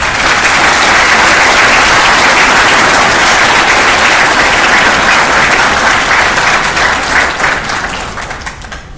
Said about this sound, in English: Please join me in a well-deserved round of applause for our graduates.